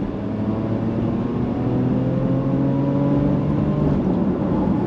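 Porsche Macan S, a heavy turbocharged SUV, accelerating hard on the road, giving a steady, loud engine drone with rising harmonic tones as it pulls through the gears, with no talking.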